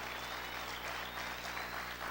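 A congregation claps loudly during a church conference sermon, a dense even wash of hands at a distance, steady throughout against a low background hum, with no voices over it.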